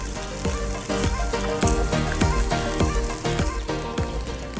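Chilli salt and pepper pork sizzles loudly in a hot pan outdoors by the water, a dense steady crackle of frying fat with repeated low knocks and stirring, no talk.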